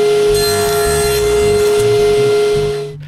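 Maple boards being cut to size on a power saw in a woodworking shop, a steady, loud whining tone with a rough grinding undertone that runs continuously before winding down at the end.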